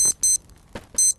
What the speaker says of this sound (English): It was like a watch beep.